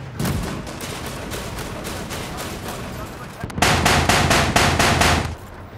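In the video game World War 3, a tank gun fires as a fast run of sharp, loud, evenly spaced blasts. A louder, tighter burst near the end rattles over background noise.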